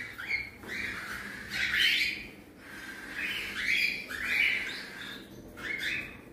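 Cockatiel parents and their large cinnamon-brown chicks calling in a series of harsh squawks and chirps, several bursts in quick succession, fairly close and moderately loud.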